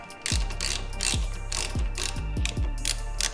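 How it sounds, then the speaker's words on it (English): A hand ratchet clicks in quick, repeated bursts of pawl clatter while bolts come off the footpegs of a Harley Dyna motorcycle, close and clear with no voices. "We're gonna unbolt the old foot pegs, use the same mounting hardware bolt, and bolt the new ones up"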